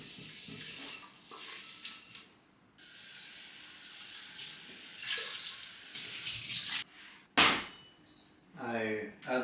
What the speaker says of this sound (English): So first I'm going to wash this saucepan a little bit.